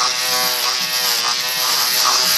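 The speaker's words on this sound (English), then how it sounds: "It's probably my favorite pool because it leaves such a smooth shave. And it's super easy to use with the single foil on it." A single-foil electric shaver buzzing continuously and loudly at close range during a low fade haircut in a barbershop, a steady dense motor hum with slight wavering as it moves over the head.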